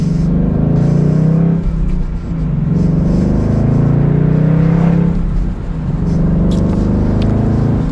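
A new Ford Mustang GT Convertible Premium, driven with the top down, roars loudly as its engine revs and accelerates. The deep exhaust rumble dips briefly twice between pulls.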